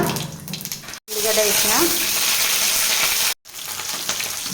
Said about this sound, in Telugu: కడాయిలో 3 స్పూన్ల ఆయిల్ వేసిన, ఇప్పుడు జీలకర్ర వేసిన,